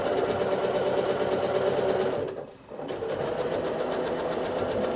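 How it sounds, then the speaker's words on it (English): A sewing machine runs at a steady fast whir while travel-stitching along the stitch line of a rail fence quilt block, pausing briefly in the middle before resuming with the same even mechanical rhythm. "we're just going to travel stitch along the stitched in the ditch line, along the stitch line"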